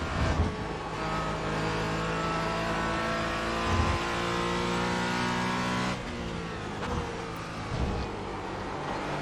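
Porsche Cayman GT4 race car in the iRacing sim, its engine droning loud and steady with harmonic revs rising and falling through gear changes, a brief dip near the middle before pulling hard again, no voices.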